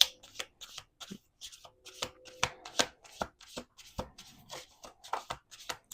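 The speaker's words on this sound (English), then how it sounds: "We're going to do 2 more shuffles." Close riffling and snapping of playing cards being shuffled, bursts of quick flutters and taps repeating in an uneven rhythm.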